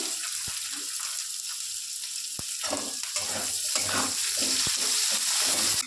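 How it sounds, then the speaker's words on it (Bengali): Chopped onion frying in hot oil in a pan, giving a steady, dense sizzle that holds throughout at close range with no speech. "আমি নিয়েছি পেঁয়াজ কুচি, পেঁয়াজ কুচিটা দিয়ে দেবো।"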